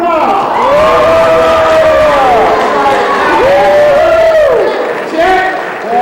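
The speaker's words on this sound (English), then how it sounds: "Give a round of applause." A crowd bursts into loud, close cheering and applause, with long sustained whoops and shouted voices over clapping that dips briefly before swelling again.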